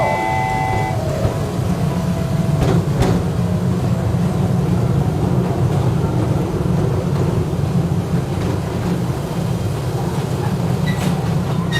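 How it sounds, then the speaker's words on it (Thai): A train departs from a station in Thong Pha Phum, Kanchanaburi, rumbling steadily, with a continuous low roar and faint rail clatter throughout, no voices. "รถไฟออกแล้ว"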